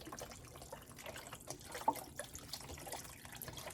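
Chicken broth poured into a cooking pot, heard as a steady, faint liquid splash and trickle with no voices.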